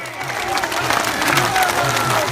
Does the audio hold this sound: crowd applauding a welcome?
yes